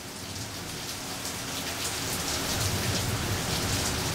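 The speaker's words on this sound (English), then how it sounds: "We're getting a little rain in Georgia." Steady rain falls in Georgia, a dense, even hiss of drops on surfaces that holds at a constant level throughout, with a faint low rumble of distant thunder underneath.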